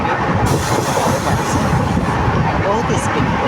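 The Aronai Express, a passenger train, runs on its rails with a loud, continuous rumble and the rattle of the wheels. The sound holds steady throughout and is heard close by, as if from on board.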